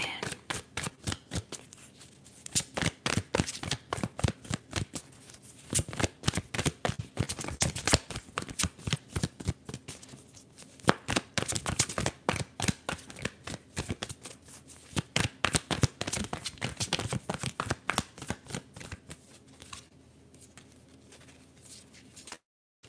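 Tarot cards are shuffled continuously up close, a rapid riffling patter of card edges in steady bursts that runs for over twenty seconds and fades out at the end.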